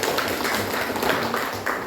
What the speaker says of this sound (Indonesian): Coba dulu kasihkan tepuk tangan untuk kelompok 3